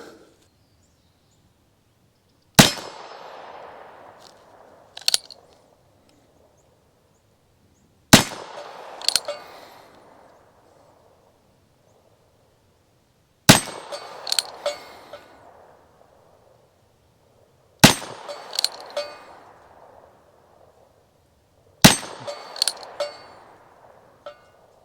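Five sharp single shots from a Ruger Super Wrangler .22 Magnum revolver firing Aguila 40 grain rounds at a bench, each crack followed by a short ringing tail, evenly spaced several seconds apart with quiet between.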